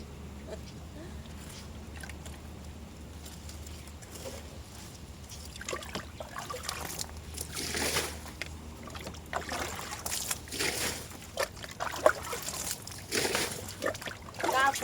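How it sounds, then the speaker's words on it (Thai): Rainwater being scooped out of a plastic crate of flower pots during rain, with repeated splashy sloshes and trickles growing louder toward the end over a steady low outdoor rumble. "ต้องมาคอยตักน้ำออก"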